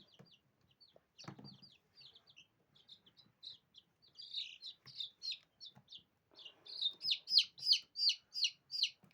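Young chicks peep in quick, high, thin bursts that start sparse and grow into a louder, denser run of cheeping toward the end, with a brief rustle of handling early on.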